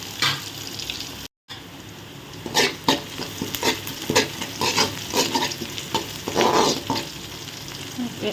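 Onions and green chillies sautéing in a pan for poha upma, with a steady sizzle and repeated close scraping stirs, after a brief moment of silence near the start.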